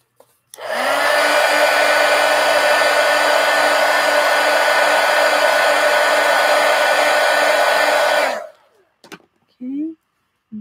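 Hair dryer blowing on craft work, a steady loud whir running about eight seconds before switching off, followed by a couple of short rustles.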